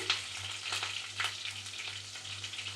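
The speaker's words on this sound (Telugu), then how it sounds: "ఉల్లిపాయలు బ్రౌన్గా వచ్చే వరకు ఫ్రై చేసుకుందాం" Onions sizzle in a pan with mustard seeds, garlic and curry leaves, a dense, even frying crackle with soft stirring swishes over a short stretch.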